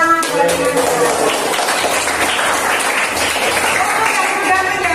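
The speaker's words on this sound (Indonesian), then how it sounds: "Tepuk tangan buat Ibu." Students in a classroom clap for their teacher. The applause is close, loud and continuous, with voices mixed in throughout.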